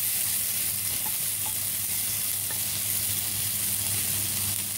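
Chunks of beef for goulash sizzle steadily in a hot pan while being stirred, a dense continuous frying hiss with faint scraping, close and even throughout.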